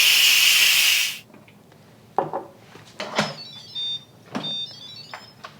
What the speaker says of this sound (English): you're going to quick release the pressure